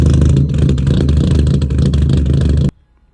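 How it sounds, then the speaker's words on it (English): A Mini Cooper built toward 500 horsepower, fitted with a high-output camshaft, idles close by with a loud, lumpy grumble that holds steady, then cuts off abruptly near the end. "It makes the car have a really nice grumble when it does run."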